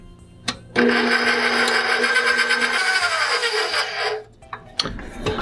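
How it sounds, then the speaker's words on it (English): A mixer whirs continuously for about three seconds while whisking cherry extract into macaron meringue, then stops, with a few faint clinks afterward. "And we're going to mix this in, or whisk it in."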